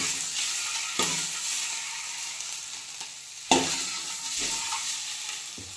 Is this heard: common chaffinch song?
no